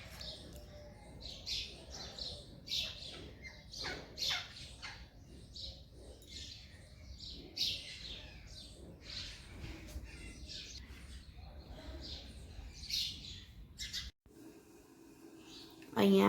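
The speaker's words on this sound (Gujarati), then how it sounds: "પોપટ પણ આવી ગયા છે, જોઈ શકો છો" Parrots call in a rapid series of sharp squawks and chirps close by at a family home, with quieter talk and household noise underneath.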